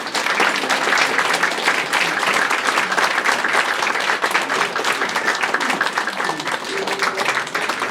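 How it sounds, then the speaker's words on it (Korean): A crowd at a political and education talk concert claps to welcome guests, with steady dense applause lasting several seconds. Some scattered murmuring and voices can be heard beneath the clapping. "큰 박수 부탁드립니다"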